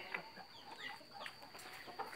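Jungle fowl hens kept as breeding stock cluck in short, scattered calls, fairly faint against quiet farmyard background, with several birds sounding at once.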